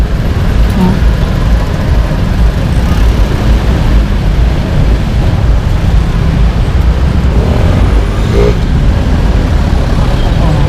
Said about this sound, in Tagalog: Sugod ng traffic oh.